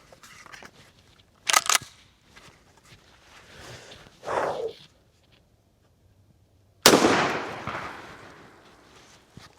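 A shotgun fires a buckshot shell at a target 10 feet away: a single sharp, loud blast with a long fading tail, preceded by a few quieter handling knocks and rustles.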